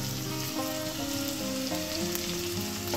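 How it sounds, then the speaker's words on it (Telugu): Onions, green chillies and curry leaves fry in oil, a dense, even sizzle that holds close and steady from start to finish, with no talk. "ఎర్రగా పచ్చిగా లేకుండా మంచిగా గోల్డెన్ కలర్ వచ్చేంత వరకు వేయించుకోవాలి"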